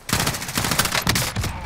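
Rapid gunfire in a Call of Duty Warzone match, a loud, close burst of repeated shots cracking in quick succession over about a second and a half.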